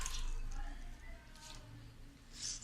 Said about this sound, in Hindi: आप ऐसे हाथों की मदद से अच्छे से इसका पानी खुश्क कर लें, निकाल दें सारा